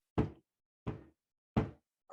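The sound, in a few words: knock on a door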